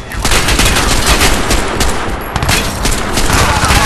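Gunfire in Crysis 2 goes on without letup, with dense automatic bursts and sharp individual shots piling on top of each other, loud and close throughout.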